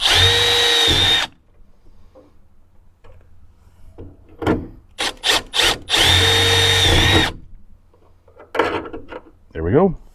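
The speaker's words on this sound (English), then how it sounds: "Make sure I don't drill through anything I don't want to." A power drill with a step bit whirs loudly in two sustained bursts while drilling during a BAKFlip MX4 hard bed cover install, separated by clicks and handling knocks, with light rattling afterward.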